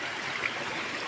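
Steady broadband rush of flowing water, like a stream or small waterfall near a palace being cleaned, continuous and fairly close with no pauses.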